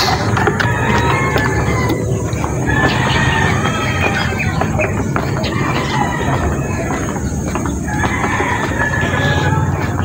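A flock of backyard chickens clucks and squawks continuously at close range, with a rooster crowing among them, making a dense, loud, busy chorus that never lets up.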